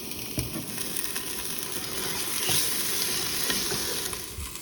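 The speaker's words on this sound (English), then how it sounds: "We have our peppers and onions in this one that we'll saute real quick" Peppers and onions saute in a pan with a steady, close crackling sizzle, punctuated by occasional stirring scrapes and no voices.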